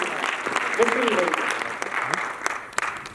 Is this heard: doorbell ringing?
no